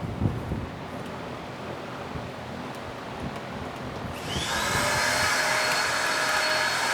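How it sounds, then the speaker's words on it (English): A vacuum cleaner cleaning the carpet of a 2015 BMW F80 M3, starting up partway through with a loud, steady whine that continues to the end after quieter handling noises. "only thing that's annoying about this vacuum is you gotta kind of hold it between your legs"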